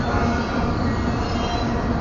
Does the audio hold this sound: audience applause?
no